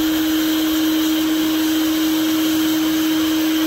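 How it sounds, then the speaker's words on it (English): A paint-stripping heat gun blowing on a piece of wood gives a loud, steady whooshing drone with a constant motor whine, unchanging from start to finish. "use a paint stripping gun to gently"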